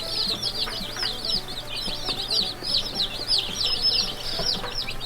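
Broiler chicks huddled in a brooder, a dense chorus of high, rapid peeping from many birds at once, close and continuous over a faint low hum.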